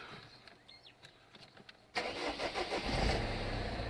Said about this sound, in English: Let's give the car a kick over.